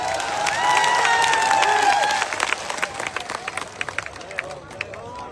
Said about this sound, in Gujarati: તાળીઓ તો પાડો.